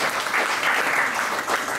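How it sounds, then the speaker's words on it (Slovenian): An audience claps at a live Miss Avrora pageant broadcast just after a musician's performance, a dense, steady round of applause that swells slightly and carries on without a break. "Še en velik aplavz naši preskočilni glasbenici Anaji"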